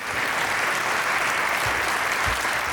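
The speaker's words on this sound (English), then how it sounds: "So let's give another round of applause to Sherry" Audience applause at an economic mobility summit, a continuous, dense clapping from a large crowd that holds steady for the whole stretch without any voices on top.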